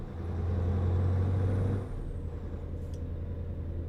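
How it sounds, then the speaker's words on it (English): Steady low drone of a V8 engine in a Danish left-hand-drive truck, loud and continuous, with a brief hiss like an air brake release partway through before the engine settles into a slightly quieter hum. "So you just have to listen to a nice little V8 for a bit."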